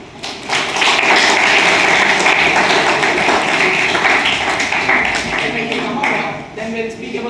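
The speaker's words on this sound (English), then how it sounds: "And you really have to clap him because he made this for you." Audience applause in a hall during an entrepreneurship talk, a dense continuous wash of many hands clapping, loud and steady from start to finish, tapering slightly near the end.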